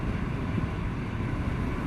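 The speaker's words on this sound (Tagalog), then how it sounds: "Malakas kasi yung hangin." Strong wind roars steadily against the microphone, a constant low buffeting rumble with no pauses.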